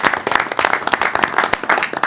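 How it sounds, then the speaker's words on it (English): A room of people at a village board meeting gives a round of applause, uneven clapping with sharp individual claps standing out over a continuous patter. "You want to give him an official round of applause?"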